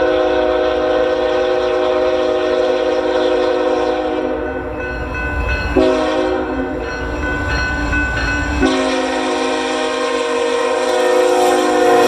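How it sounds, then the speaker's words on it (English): A BNSF eastbound intermodal freight train led by two GE locomotives sounds its horn in long loud blasts while racing past, with a continuous rumble of rolling cars beneath and no talking. "we find eastbound intermodal train QCLO ALT racing by as the crew prepares to make the northbound turn"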